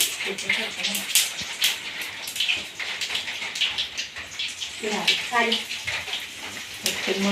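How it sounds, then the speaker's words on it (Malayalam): Rain falls with a steady, crackling patter, heard alongside someone talking nearby while cooking in a kitchen. "മഴത്തുള്ളി ഇടില്ലേ മഴയുണ്ട്"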